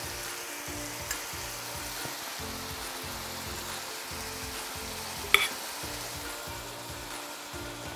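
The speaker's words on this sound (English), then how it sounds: "So to our skillet, we are going to add a jar of marinara sauce." A jar of marinara sauce goes into a skillet of sizzling sausage, giving a continuous close frying hiss and crackle with a single sharp clink midway.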